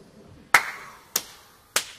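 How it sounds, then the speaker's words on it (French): Three sharp, separate hand claps in a quiet room on a stage play set, each a crisp near slap with a short decay, spaced about half a second apart, with no voices. "Oh, mais il n'y a pas de quoi applaudir, John."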